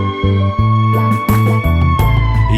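Ambulance siren in a children's preschool song, loud and close, with tonal wails that step up and down in short repeating bursts, musical backing underneath and no speech.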